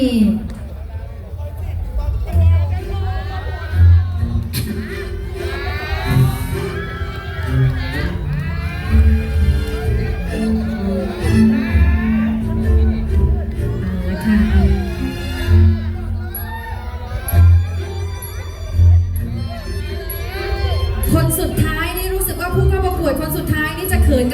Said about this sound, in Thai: โอ้โห เสียงกรี๊ดดังมาก